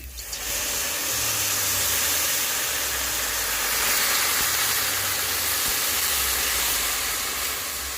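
Water poured into a pan of fried elephant foot yam sends up a loud, steady broadband hiss of steam and sizzle that holds evenly for several seconds, with no voices.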